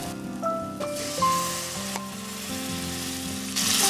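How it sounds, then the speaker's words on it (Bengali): Boiled chickpeas go into hot, oil-separated masala in a pan while cooking chana masala, giving a steady loud sizzle and fry with some stirring scrapes throughout, with no talk. "এবার আমি সেদ্ধ করা চানাগুলোকে এই মশলার ভিতরে দিয়ে নেব।"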